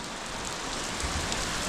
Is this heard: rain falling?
yes